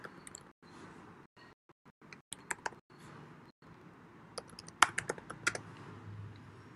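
Keys clatter on a computer keyboard while a DS-160 visa form is filled in online: quiet, close tapping in uneven bursts with short pauses, growing a little louder and sharper toward the end.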